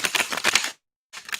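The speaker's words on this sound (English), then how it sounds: "a few more shuffles" Tarot cards are shuffled in two quick bursts of crisp, rapid riffling, close and alone, separated by a short silence.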